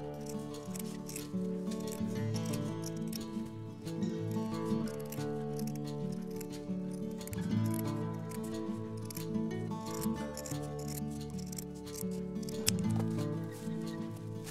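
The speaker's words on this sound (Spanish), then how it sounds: "Vamos a recortar." Scissors cutting through felt fabric close up, a continuous run of rapid snipping and crunching blade strokes at a fairly even rhythm, with no one speaking.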